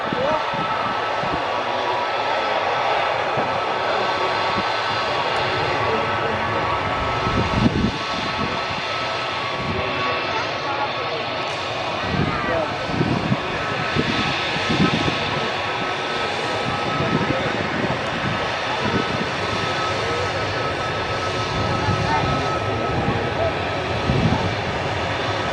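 Aircraft engine noise at Manchester Airport as an Airbus A380 descends through cloud on approach, a steady broadband roar held throughout with faint low rumbles and speech beneath it.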